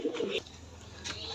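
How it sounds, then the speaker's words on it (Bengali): Sirazi pigeons cooing in a small homestead yard, a brief low coo at the start followed by faint ambient background. "বেশ কয়েক কোয়ালিটির কবুতর রয়েছে, সিরাজি।"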